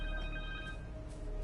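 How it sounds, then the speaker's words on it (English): In the video game Marvel's Spider-Man 2, a phone rings in a short burst of steady electronic ringtone tones over a low hum, brief and fairly clear. "Phone."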